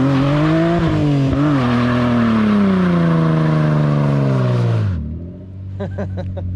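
A Toyota Supra engine revving hard, a loud rising and sustained roar with shifting pitch that drops off sharply as the throttle is released, followed by a brief low idle with faint clicks.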